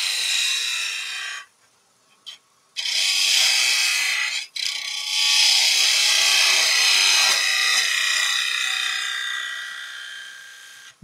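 A quarter inch beading and parting tool cuts a wooden Christmas ornament on a lathe, giving loud scraping, hissing cuts in several long passes separated by short pauses, with no talking.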